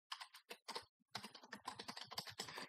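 Rapid keyboard typing while Python exception-handling code is entered, in quick bursts of dense clicks with short pauses between them, close and fairly loud, no talking.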